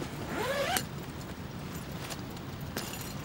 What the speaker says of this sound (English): Open the plastic buckles in the side flaps and zip off.